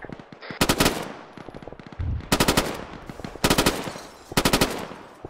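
Bursts of machine gun fire in a military combat setting, four loud, close rapid-fire strings separated by short pauses.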